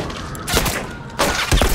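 A video game firefight: a grenade blast and bursts of gunfire land as two or three loud, sharp thumping cracks with short rumbling tails, separated by brief gaps.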